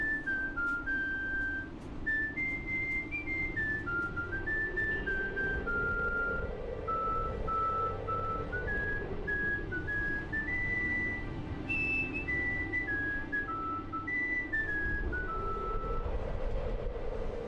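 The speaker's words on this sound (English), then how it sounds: "the music around that guy implies that he's whistling this, but it sounds electronic" Electronic-toned whistled melody in the Sandrock video game, a looping tune of stepped notes playing steadily over a low ambient hum and rumble.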